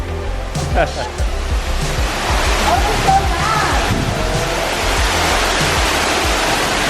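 Waterfall in Bali, a steady broadband roar of falling water filling the scene, with brief voices over it.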